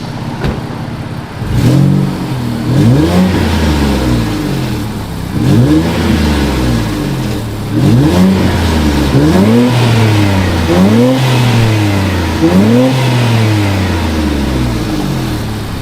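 An Infiniti Q50 with a VR30 V6 and aftermarket valved exhaust revs repeatedly, loud and close, each blip rising and falling in a steady cycle of about six throttle pulls over a deep rumbling idle.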